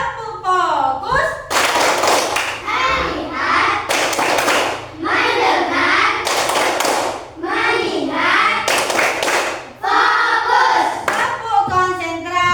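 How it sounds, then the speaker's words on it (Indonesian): A classroom of children performs a focus clapping routine, chanting together while punctuating the rhyme with repeated loud, evenly spaced bursts of group hand claps. "Tepuk fokus."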